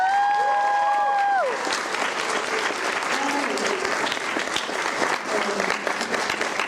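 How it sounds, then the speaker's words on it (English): After a theater performance, the audience gives the cast a warm round of applause, steady dense clapping filling the room with a musical tone trailing off at the start. "just one more round of applause for our wonderful cast"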